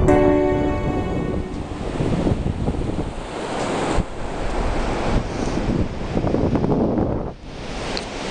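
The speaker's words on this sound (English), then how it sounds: "So I'm here at the Hook of Holland, on the beach." Surf on the beach at the Hook of Holland, a loud, steady wash of breaking waves mixed with heavy wind buffeting the microphone, with no voices.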